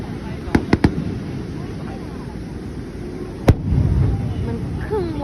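Fireworks at a Japanese summer festival: a few sharp distant pops and one louder bang, over constant crowd noise with people talking nearby.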